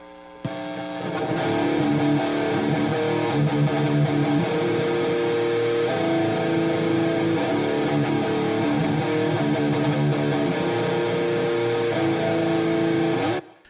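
An electric guitar plays through an Ibanez TS7 Tube Screamer overdrive pedal in hot mode, thick and gritty, strummed chords ringing steadily for several seconds before cutting off.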